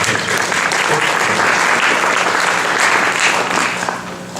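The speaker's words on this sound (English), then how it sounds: "give him a round of applause" A conference audience at a Silicon Valley mobile industry meetup applauds a panel moderator, dense sustained clapping from a sizable crowd that stays strong before tapering slightly at the end.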